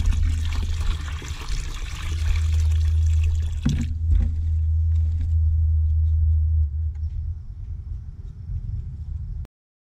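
Water poured into a new septic distribution box during a septic system installation: a loud, steady low rushing pour for about four seconds, then quieter trickling and splashing that fades before stopping abruptly.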